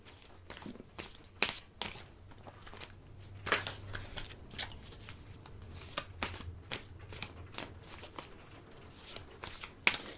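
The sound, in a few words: shuffling playing cards for a reading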